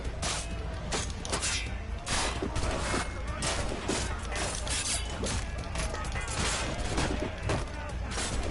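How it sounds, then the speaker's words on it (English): Gunfire in the video game Assassin's Creed Rogue: a rapid string of sharp shots and crackling bursts repeating throughout, with game mechanisms and crashes mixed in. "Gunshot."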